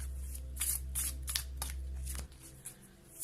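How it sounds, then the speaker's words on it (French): Cards from a fairy tale oracle deck are shuffled and drawn by hand, giving a series of close, soft papery riffles and flicks over a low steady hum, with no talking. "on va prendre une petite carte de l'oracle des contes de fées"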